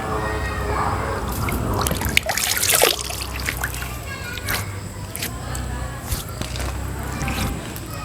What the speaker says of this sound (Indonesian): saya akan coba membasuh muka dengan air Kadikjayaan